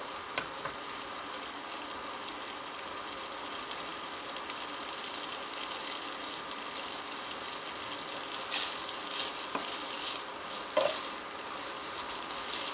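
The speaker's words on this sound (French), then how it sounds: "Vous les faites revenir à la poêle." Strips of roasted, browned chicken sauté in a frying pan with a steady, even sizzle, plus a few louder stirring scrapes near the end and no talking.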